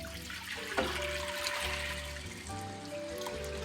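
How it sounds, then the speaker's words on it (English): Tap water running into a pot of dried beans, a steady close stream with a brief splashy surge near the start, the pitch of the filling shifting as the pot fills. "So now I'm gonna fill the pot up with water until it is about 2 inches above the beans."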